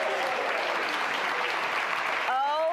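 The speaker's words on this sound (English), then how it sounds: "a round of applause for our foodie friend" Steady, dense applause from a studio audience greeting a guest on a cooking show, continuous and fairly loud throughout.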